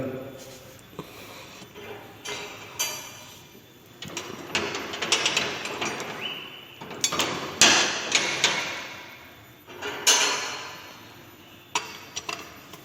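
Metal tool clicks and taps ring out while the cam chain roller bolt is loosened and removed from a motorcycle engine, in irregular bursts with talking in between.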